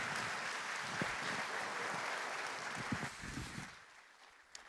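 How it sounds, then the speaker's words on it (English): Audience applause at the 30th Afreximbank Annual Meetings in 2023, a broad steady wash of clapping across a large hall that thins and fades out toward the end. "give a round of applause to the one and only Aliko Dangote."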